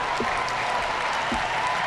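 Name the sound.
crowd applauding a gymnastics performance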